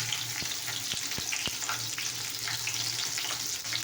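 Food fries with turmeric in a pan, a close, steady sizzle broken by several sharp clicks and knocks from a stirring spoon.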